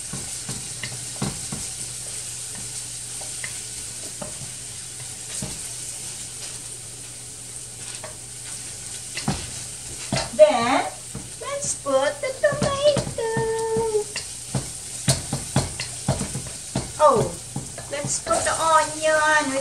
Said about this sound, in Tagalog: The garlic is cooking in the oil.